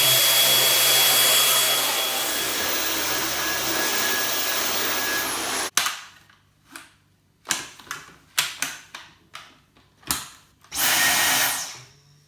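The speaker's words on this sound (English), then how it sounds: "I'm just going to do a bit more hoovering and see what I think of it." A Dyson V10 cordless vacuum cleaner runs loud and close with a steady whine for several seconds, then cuts off, followed by a series of short, sharp bursts and clicks.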